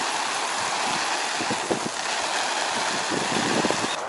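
Water sprays onto tent fabric during a water-resistance test, a steady close hiss of spray with pattering droplets striking the material, fairly loud and continuous, with no speech.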